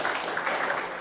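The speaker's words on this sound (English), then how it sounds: "that should get a round of applause" Applause at a live Navy HR town hall, a dense, steady wash of clapping from an audience, fairly loud and heard alone.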